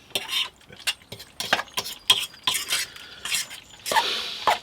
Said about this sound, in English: let's mix this up with these broad noodles